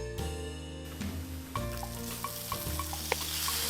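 Shrimp paste (alamang) frying in a pan after golden garlic and cooked onion, a steady close sizzle under a musical background with a few light stirring clicks and scrapes.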